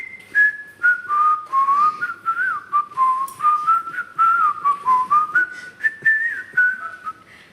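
A person whistles a melody alone, a clear bright tone gliding up and down through a tune in steady, close phrases.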